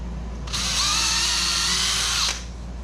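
A power drill whirs steadily for about two seconds as it pre-drills screw holes in the foam hull of a homemade 11 ft foam-and-fabric kayak, starting and stopping abruptly, close and loud.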